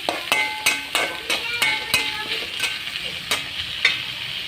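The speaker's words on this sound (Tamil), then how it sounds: "தக்காளி வதங்கிட்டுருக்கு. நல்லா வதங்கட்டும்." Tomatoes sautéing in a pan for vegetable wheat rava upma, with a spoon scraping and knocking against the pan in an irregular run of sharp strikes over a soft sizzle, close and alone.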